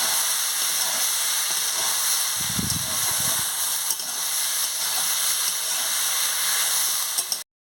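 Mixed vegetables for a Bengali chorchori sautéing in a pan give a steady, close hiss and sizzle, with a brief scraping stir partway through.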